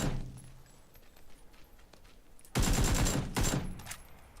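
Gunfire in PlayerUnknown's Battlegrounds: after a quiet stretch of faint movement, two loud, broadband bursts of shots land near the end, the second following shortly after the first.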